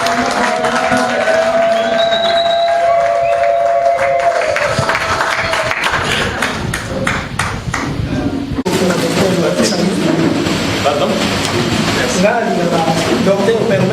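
An audience at a political speech cheers and applauds in sustained clapping and crowd noise, with a voice speaking over it early on and the applause swelling again in the second half.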